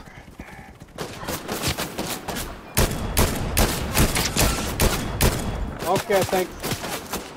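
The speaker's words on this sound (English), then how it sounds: "someone's shooting!" Gunfire rattles through a Fortnite squads match in quick bursts of repeated shots, loud and fairly close. Players talk briefly over the shooting.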